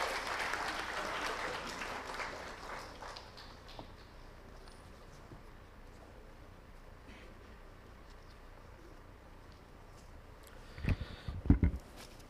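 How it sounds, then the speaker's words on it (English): A conference audience at an opening ceremony applauds a speaker, clapping loudest at first and then thinning into a faint scattered patter, with a few louder knocks and bumps close to the microphone near the end. "Can we have a great round of applause, please, for Dr. Anil Prakash Joshi."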